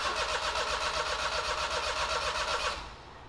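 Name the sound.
car engine starting after fitting second-hand injectors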